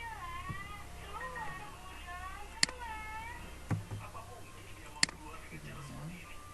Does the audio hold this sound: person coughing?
no